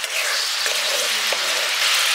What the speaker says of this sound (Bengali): এবার ভেজে রাখা আলুটা দিয়ে দিচ্ছি। আলুটা দিয়ে মিশিয়ে দিলাম।